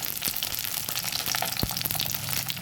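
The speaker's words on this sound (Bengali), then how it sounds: "এবার তেল গরম হয়েছে এবার মাছের মাথাটা দিয়ে দিলাম" A katla fish head sizzles in hot mustard oil in a wok, giving a steady, close frying hiss with scattered pops and crackles throughout.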